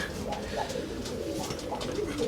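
Pigeons coo steadily in a breeding loft, soft repeated low calls layered over a constant murmur of more birds, with no clear voices over it.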